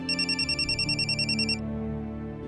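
A telephone rings with a bright, rapidly pulsing electronic trill that repeats steadily for about a second and a half and then cuts off, leaving a low sustained musical background.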